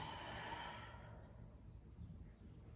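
A long breathy exhale during a lying-down abdominal exercise, soft and close, fading into quiet room noise after about a second.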